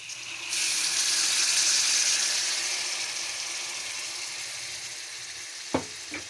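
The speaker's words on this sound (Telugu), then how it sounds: "ఇప్పుడు కొద్దిగా వాటర్ వేయాలి, ఎక్కువ వాటర్ వద్దు." Water splashes into a hot pan of fish curry with a loud hiss and sizzle that slowly settles, ending with a couple of faint clinks.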